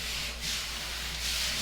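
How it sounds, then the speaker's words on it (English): A sanding sponge rubs back and forth across a surface during home renovation work, a close, steady abrasive scrubbing that continues for the whole stretch with slight swells in loudness. "So I'm just sanding from different sides"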